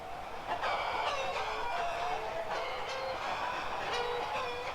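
A dense crowd of a thousand chickens in the Ultimate Epic Battle Simulator video game, clucking and squawking together in a steady, loud, continuous chorus that never lets up.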